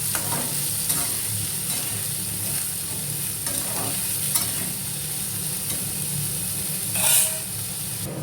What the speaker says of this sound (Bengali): পনির ভাজা হয়ে এসেছে প্রায়, একা একটু সবজিগুলো দিয়ে দেবো